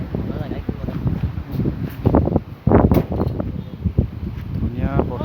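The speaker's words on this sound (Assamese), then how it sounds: "ধুনীয়া বতাহ আহি আছে গাইজ" Cool wind blowing near the water at a village picnic spot, a steady rough rumble buffeting the microphone, with a person talking over it throughout.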